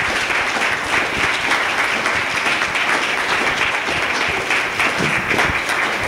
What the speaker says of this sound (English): Let's give them all a very hearty round of applause.